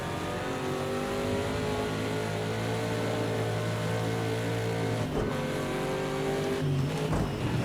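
A Ford race car roars past on the Daytona track during practice, its engine loud and sustained with rising and falling revs as it passes close by, with no talk.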